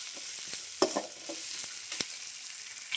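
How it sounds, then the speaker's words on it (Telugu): Onions frying in a pan with ginger garlic paste for mango rice, a steady soft sizzle broken by a few sharp scraping stirs of a spoon, close and alone with no talk. "ఎర్రగడ్డలతో అయితే బాగా వేగుతున్నాను"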